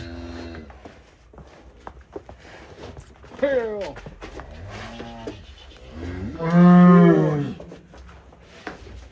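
A cow moos twice, the second call long, loud and close, during a hunt for a large cattle animal, with people talking and footsteps shuffling around.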